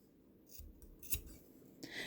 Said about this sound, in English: you can cut these down.